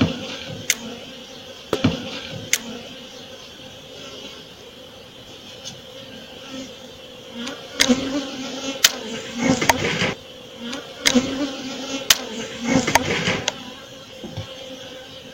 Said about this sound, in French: Je remets les abeilles.